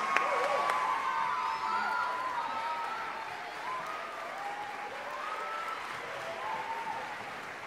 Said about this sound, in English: Round of applause for our choir also.